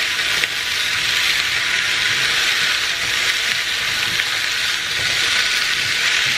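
Green peas tossed into a hot pan for a creamy chicken meatball dish and stirred, giving a steady, loud sizzle and hiss with no talking.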